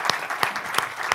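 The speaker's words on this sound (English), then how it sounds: "join me in a round of applause for the panelists" An audience at an energy conference panel gives a brief round of applause, with a handful of sharp, spaced claps standing out over a soft bed of scattered clapping.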